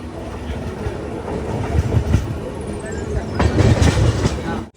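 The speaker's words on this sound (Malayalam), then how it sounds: "കുപ്പം റെയിൽവേ സ്റ്റേഷനിലേക്ക് ഇതാ നമ്മുടെ ട്രെയിൻ അടുക്കുകയാണ്." The Brindavan Express rumbles steadily with rhythmic clickety-clack of wheels on rails, growing louder and busier toward the end as it rolls into Kuppam railway station.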